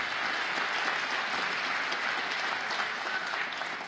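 A large audience at a State of the State address in the Bronx claps steadily. The applause is a dense, even wash that holds at the same level throughout, with no voices above it.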